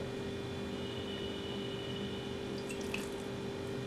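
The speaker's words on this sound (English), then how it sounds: "And add small quantity of water" Small quantity of water poured onto ground batter in a plate while making a North Karnataka style recipe, a steady soft trickle and splash lasting throughout with a faint background hum.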